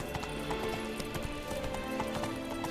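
Roach, the horse in The Witcher 3, gallops with a quick, steady run of clip-clopping hoofbeats, close and loud over sustained tonal background music and ambience.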